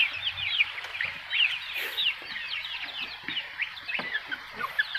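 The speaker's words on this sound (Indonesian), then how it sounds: "Ayam Bangkok." Many Bangkok gamecocks cluck and chatter together continuously, a busy overlapping flock sound, fairly close, with no voices, in a flooded chicken coop.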